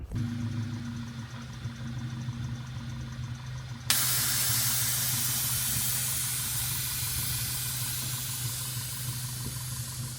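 The air suspension on an MK6 GTI airs out, cutting in with a sudden loud, steady hiss of escaping air that continues over a low engine hum.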